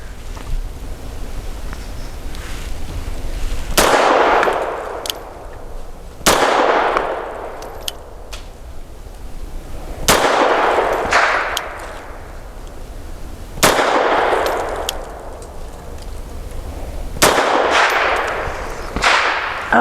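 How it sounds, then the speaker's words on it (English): Five pistol shots from a Grand Power LP380 firing Blazer 95 grain ammunition at a 7-yard target, each a sharp loud crack with a ringing tail, spaced a few seconds apart outdoors. "So 5 shots from 7 yards for accuracy using the Blazer 95 grain."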